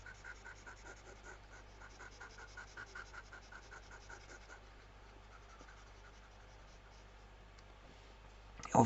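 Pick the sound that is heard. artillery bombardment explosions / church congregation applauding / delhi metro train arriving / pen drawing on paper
pen drawing on paper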